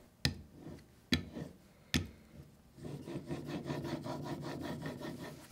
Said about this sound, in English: To use the honing plates, charge them up by placing a few drops of diamond paste onto the plate. Then, sharpen as you usually do.